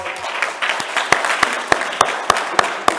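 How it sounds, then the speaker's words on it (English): A crowd at a Pan-African symposium on continuing Garvey's legacy applauds steadily, with a few sharp individual claps standing out above the dense wash of hand clapping. "Let's give him a round of applause"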